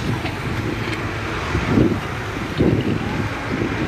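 Steady wind buffets the microphone with a low rushing roar, swelling in a couple of gusts, with faint traffic-like noise beneath, beside a burning wheat field in Derik, Turkey.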